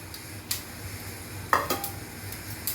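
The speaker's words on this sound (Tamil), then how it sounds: "கொஞ்சம் கடுகு பொரிஞ்சிட்டு கொஞ்சமாக உளுந்தம்பருப்பு," Mustard seeds, urad dal and curry leaves sizzling in half a teaspoon of oil for a tempering, a soft, steady hiss punctuated by several sharp spatula clinks against the pan, no voices.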